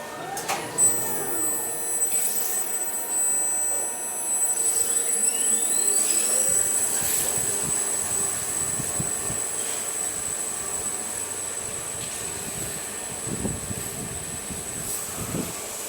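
An overhead crane in an abandoned 1980s atrium building travels at full speed, giving a continuous rolling rumble with metallic wheel squeals and creaks that rise and fade over it.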